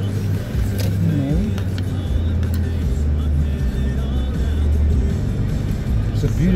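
A car drives through downtown streets, giving a steady, loud engine and road rumble that continues throughout.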